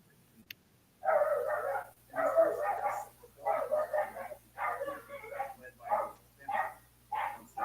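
Dogs bark outdoors in a steady series of about eight loud, rhythmic barks and yelps, with a low hum running underneath.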